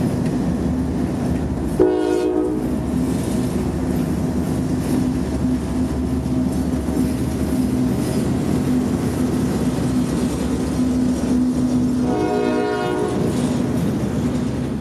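Intermodal freight train with three GE locomotives crawls past near Cordele, Georgia: a long steady rumble and clatter of cars, with loud harmonic horn blasts early and again near the end.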